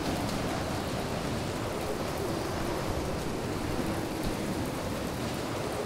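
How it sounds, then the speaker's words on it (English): Steady rain falling in an underground cave area in the Planet Explorers video game, an even dense hiss with no breaks or talk. "it rains underground for some reason."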